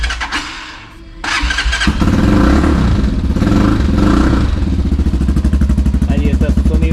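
A Thunder MIG 25 250cc motorcycle starts up close by and settles into a loud, throbbing idle, with quick revs and a rapid ticking beat running through to the end.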